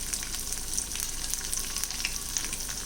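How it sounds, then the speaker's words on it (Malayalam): Chillies and curry leaves sautéing together in hot oil for a spicy changalam paranda chutney, a dense, even crackling sizzle with bright pops throughout, close and steady. "എല്ലാം കൂടെ ഒന്നിച്ച് വഴറ്റിയെടുക്കാം"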